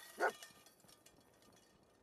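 A dog in the Fallout video game gives one short bark or yip, near and fairly loud, then fades into low ambient game sound with faint soft noises.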